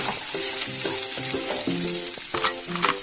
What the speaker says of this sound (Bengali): দেখো এবার টুকরো করা পেঁয়াজ আর ক্যাপসিকামটাও দিয়ে দিলাম।